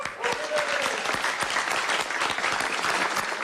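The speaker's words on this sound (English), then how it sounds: "With applause from his Democratic colleagues and supporters" Applause from Democratic colleagues and supporters for Wisconsin Governor Tony Evers, dense steady clapping from a room full of people, close and continuous throughout.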